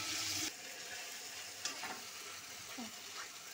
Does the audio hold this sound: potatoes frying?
yes